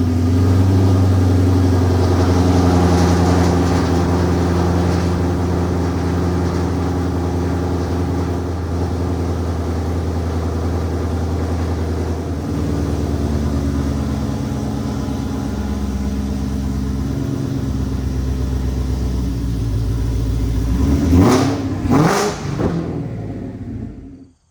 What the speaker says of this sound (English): the upside of the video is a cold start